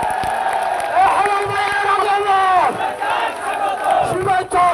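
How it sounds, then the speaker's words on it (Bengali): Large outdoor crowd at a political rally for Barrister Mir Mohammad Helal Uddin in Hathazari, cheering and shouting in a sustained loud roar of massed voices, with whoops rising and falling and no clear applause. "চলুন আমরা একটু করতালি অভিনন্দন জানাই"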